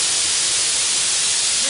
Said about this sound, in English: We've now restored it to working order, and of course it's driven by the steam engine